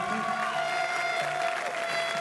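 Audience applause at the Coupe du Monde de la Pâtisserie 2013 competition, a steady wash of clapping from a crowd lasting throughout, with a faint tonal hum running underneath.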